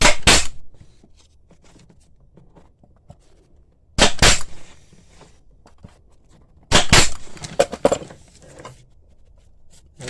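A Senco M2 pneumatic stapler fires into wood three times, each a loud sharp crack spaced several seconds apart, with quiet handling sounds between shots.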